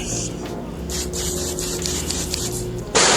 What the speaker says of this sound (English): I can spray you right now.